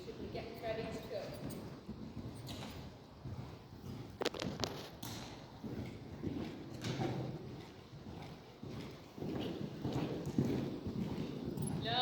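Horse hooves thud in a rhythmic canter across an arena during a riding lesson, moderately close, with an instructor's voice talking over them.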